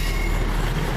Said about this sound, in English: Just arriving into Fratton, the slightly delayed 12:42 First Great Western service from Cardiff Central to Portsmouth Harbour, 158961.